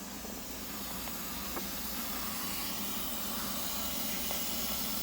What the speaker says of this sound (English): You can see the steam popping up.